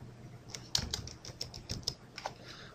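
Quiet, close typing on a computer keyboard: a quick, uneven run of light key clicks over faint room hum.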